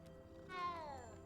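A cat in the Hogwarts Legacy video game gives one clear, drawn-out meow that falls in pitch, heard faintly over a soft steady game background hum.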